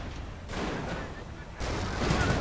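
Mortar rounds land among British troops in a World War II strategy game battle, as two heavy, rumbling blasts roll in one after the other, each swelling into a dense, sustained roar.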